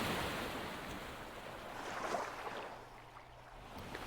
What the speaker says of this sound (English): As a wave splashed against my ankles